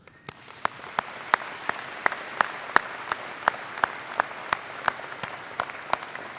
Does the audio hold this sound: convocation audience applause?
yes